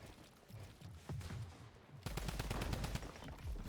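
Rapid gunfire from a battle royale video game match, a dense run of sharp shots that grows busier and louder halfway through, heard fairly faintly.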